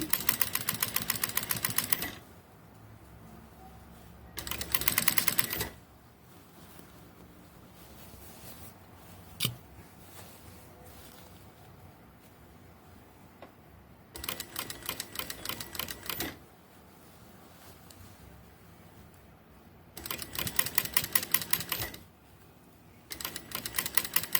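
Sewing machine stitching a jacket seam in about five short, rapid rattling bursts, each separated by quiet pauses.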